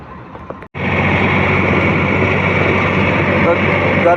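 Tractors arriving at a grain market, a steady loud engine drone that cuts in abruptly after a brief pause and keeps running close by.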